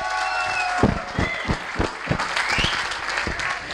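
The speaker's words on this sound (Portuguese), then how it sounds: "Pá, palmas!" An audience at a live comedy show in Portugal claps in a short burst, with dense applause mixed with a few loud, distinct claps and some background voices.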